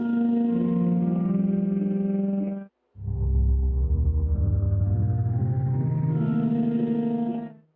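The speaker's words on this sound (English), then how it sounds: "Now let's go over the tremolo knob." A sample instrument played with a tremolo effect, a sustained tone whose level pulses quickly, breaking for a moment before a lower swelling note returns and slowly climbs, with no voices.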